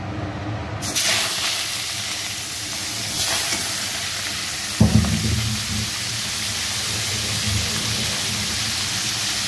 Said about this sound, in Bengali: চিংড়ি মাছগুলো প্রথমে তেলের মধ্যে ছাড়া যাক